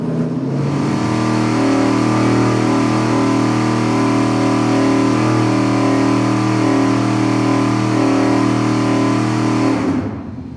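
An engine on a dyno held steady at 4,700 RPM, its peak torque, during an iron versus aluminum heads heat test, a loud, constant droning roar without change until it cuts off abruptly near the end.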